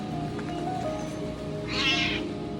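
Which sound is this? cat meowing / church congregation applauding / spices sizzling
cat meowing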